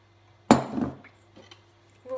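A utensil knocks once against a bowl of salmon cake batter and flour, a single close clink with a short rattle that fades into quiet.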